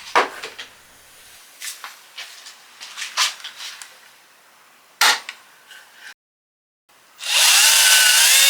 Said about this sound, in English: Using the same drill bit to drill further got me most of the way through the legs